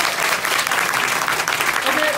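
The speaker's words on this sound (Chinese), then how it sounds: "你们是不是给我一点掌声？" Dense, steady applause from an audience at a tech conference lightning talk in Beijing fills the whole stretch, a continuous wash of many hands clapping at close range.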